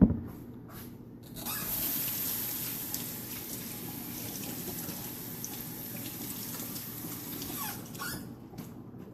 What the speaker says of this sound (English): I'm going to wash my hands and I'll be right back